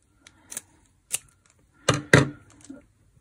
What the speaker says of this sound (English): Right, I'm gonna scissor it.